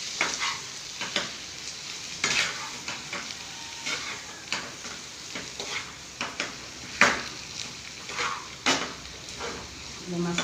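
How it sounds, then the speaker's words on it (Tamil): Fish coated in masala frying in a pan gives a continuous sizzle, broken by repeated close scraping stirs and metallic clanks of the spatula against the pan. "மசாலா கூட சேர்த்து நல்லா கிண்டிடலாம்"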